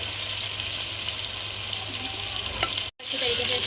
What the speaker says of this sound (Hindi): 1 कप ऑयल डालने के बाद हम इसमें अपनी जो चिकन हमने मैरिनेट करके रखी थी वो डालेंगे